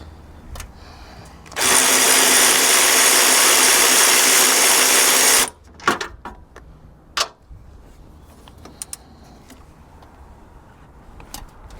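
A 14 mm socket on a tool breaks loose a bolt on a Toyota Highlander during spark plug and coil work: one loud, harsh, continuous whir lasting about four seconds, then a few sharp clicks and knocks from the tools.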